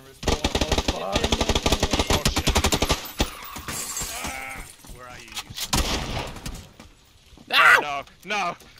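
Rapid automatic gunfire in the video game PUBG, a zombie mode, fires in dense bursts early on, then gives way to excited overlapping voices shouting over sporadic game sounds.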